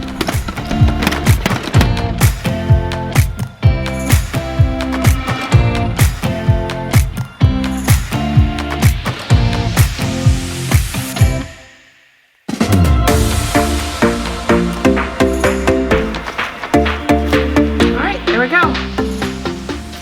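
A salad spinner whirls washed lettuce dry with a fast rattling, clattering rhythm, loud and close, briefly stopping midway before spinning again.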